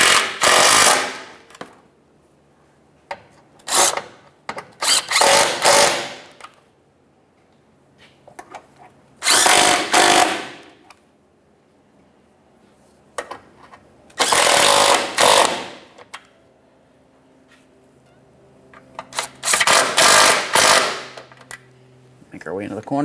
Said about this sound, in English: Now we can snug up those 10mm headed bolts.